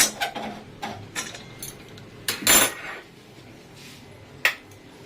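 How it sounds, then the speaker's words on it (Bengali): A wok is set on a kitchen stove with oil, giving a series of sharp, close metallic clinks and clatters spread irregularly over a few seconds, with no talk. "কড়াই বসিয়ে দিয়েছি তেল দিয়ে"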